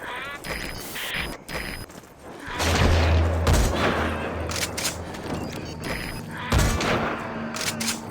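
Gunfire rattles through a Metal Gear Solid 5: The Phantom Pain battle, bursts of rapid shots and booming blasts in clusters, loud and close, with brief voice lines between them.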